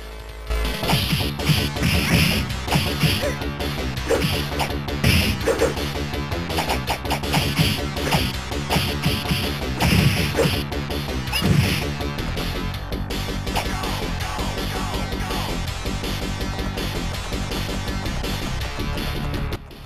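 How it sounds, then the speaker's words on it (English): Arcade-style beat-'em-up action from a Super Famicom conversion: enemies crash through a window and UFO catchers get smashed, heard as dense, continuous clattering hits and crashes over busy game music for the whole stretch. "Enemies crashing through the window. Smashing the crap out of the UFO catchers"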